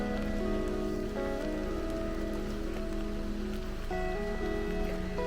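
Steady rain patters on a surface over the low, constant engine hum of an overland expedition truck at a campsite, with a few tonal notes drifting in and out.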